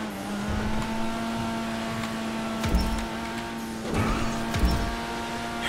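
A car in GTA 5 engine-roars steadily with a sustained tonal drone, punctuated by a few short thumps and surges as it climbs through the gears, loud and close, with no talking.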